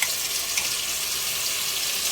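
Carinderia meat (karninas) with crushed tomatoes frying in a pan, giving a loud, close, steady hiss of sizzling oil with no break across the short clip.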